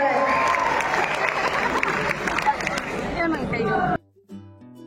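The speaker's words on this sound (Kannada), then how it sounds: "ಜೋರಾದ ಚಪ್ಪಾಳೆ" Loud, sustained applause from a college audience at a Kannada Rajyotsava celebration, a dense clatter of many hands with crowd chatter mixed in, stopping abruptly near the end.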